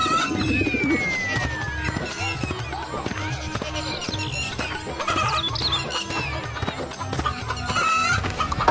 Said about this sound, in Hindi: अरे कलुआ, तू ये इतनी बड़ी बड़ी मुर्गी लेकर कहाँ घूम रहा है?